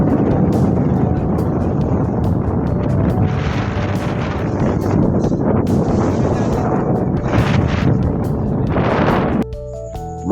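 Strong wind with rain at sea off Point Pedro, roaring and buffeting the microphone in a loud, continuous rush that shifts abruptly just before the end.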